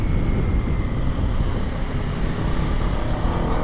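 Strong wind roars against the microphone while riding a Yamaha Aerox scooter, a steady loud buffeting rumble that fills the whole clip with no pauses.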